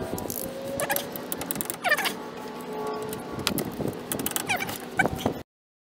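Torque wrench tightening lug nuts on a Ford Explorer wheel during a brake pad and rotor job, a run of close, dry ratcheting clicks in short bursts, fairly quiet, with no talking.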